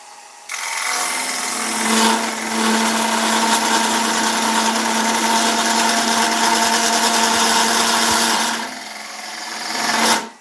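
Woodturning lathe with a carbide tool cutting an ash bowl: a sustained, loud scraping drone that starts abruptly, holds steady for about eight seconds, swells at the end and then stops.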